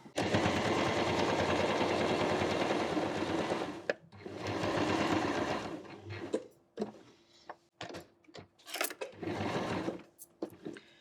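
A sewing machine stitches a seam along a quilt block, running in two long steady bursts that stop abruptly, followed by quieter clicks and handling of the fabric, with no talk.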